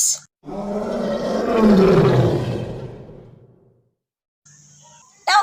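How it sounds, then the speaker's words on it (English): A lion gives one deep, drawn-out roar, loud and close, swelling then fading over a few seconds in an otherwise quiet setting. "Now we go to the king of the forest, the mighty lion."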